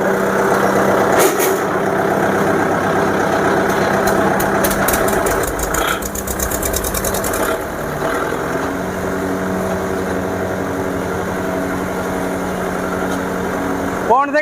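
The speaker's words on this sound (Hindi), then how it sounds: "ये देखो भाइयों ट्रैक्टर स्टार्ट हो गया।" Kubota tractor engine running on a farm, a loud, close, steady diesel chug with a rapid knocking rattle partway through, and voices occasionally heard over it.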